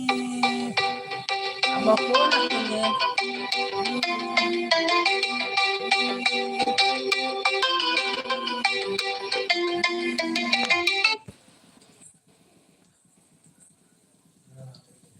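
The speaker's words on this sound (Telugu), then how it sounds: "ఫోన్ వస్తుంది పిల్లల దగ్గర నుంచి ఏమో మరి ఈసారి" A melodic phone ringtone plays loudly and repeatedly for about eleven seconds, then stops, leaving quiet room noise.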